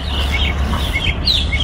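Wild birds chirp and call outdoors, several short tweets scattered over steady low background noise, no talk.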